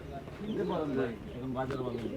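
Pigeons coo in low, rolling calls at a busy pigeon market in Bangladesh, with a steady crowd murmur and voices around them throughout.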